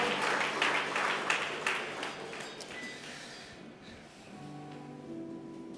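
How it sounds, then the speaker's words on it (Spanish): Church congregation applauding during a Spanish-language worship service, a broad clapping wash that is loudest at the start and then tapers, with faint tones and some murmuring coming up near the end. "Démosle una ofrenda de aplauso"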